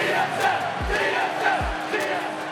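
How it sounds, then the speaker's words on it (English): A large crowd at an esports finals at PAX Prime cheers and roars loudly and continuously, with a few deep thumps under the sustained noise. "The crowd is fired up for our first game of the Summer Playoff Championship"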